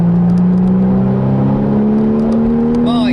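A Mercedes-AMG car accelerating hard on an open road produces a loud, continuous engine drone that climbs steadily in pitch, with rushing road and wind noise and no voices.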